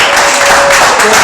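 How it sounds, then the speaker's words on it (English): Audience applause at a live comedy show, a steady wash of clapping from a crowd that stays loud and even for about a second, with a faint voice briefly audible underneath. "Give yourself a round of applause."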